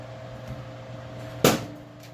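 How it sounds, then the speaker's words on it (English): A bagel is lifted out of a small countertop toaster oven. A low, steady hum gives way to one sharp metallic clack as the door or rack moves, followed by a brief fading rattle. "I'm going to take my bagel out of the toaster"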